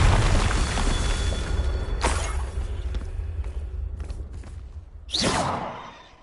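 Confringo fire spell cast repeatedly in Hogwarts Legacy, each cast a loud whooshing burst with a booming impact; two strong bursts stand out over a steady low rumble of game ambience.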